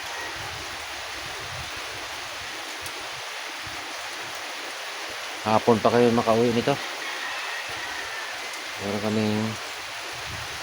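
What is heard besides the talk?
rain falling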